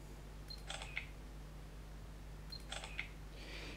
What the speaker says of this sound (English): so you can take your pictures like so, or you can use the shutter button on the top